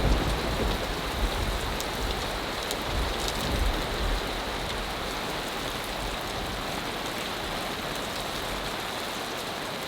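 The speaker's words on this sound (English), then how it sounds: "So I don't know if you can hear, but it's raining a lot." Heavy rain pours down at a small camp in the Serengeti, a dense, steady hiss of drops drumming on surfaces that stays loud and even throughout, with no voices.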